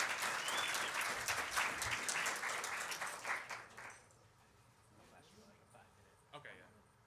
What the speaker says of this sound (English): So give Mike a round of applause.